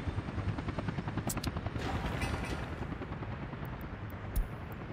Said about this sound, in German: Der ist mutig, der Heli.